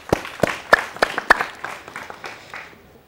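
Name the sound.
performers applauding themselves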